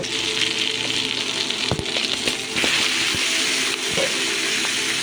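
Chopped pumpkin and potato pieces drop into a frying pan of hot oil, setting off a steady, loud sizzle with a few sharp clatters as they land and settle.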